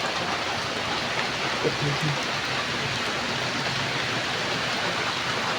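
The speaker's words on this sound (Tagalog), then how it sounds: "Lakas na naman ang ulan." Steady, dense downpour of heavy rain hissing evenly throughout, with a faint voice murmuring briefly underneath.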